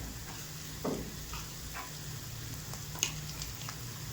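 Masala sizzling and being stirred in a pan for a traditional village-style spicy golya bhaji, a low steady fry with a couple of brief scraping knocks.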